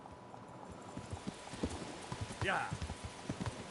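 Horse hooves clip-clop steadily on the ground in the video game Kingdom Come: Deliverance, a brisk rhythmic trot with a short whinny partway through, under a quiet voice.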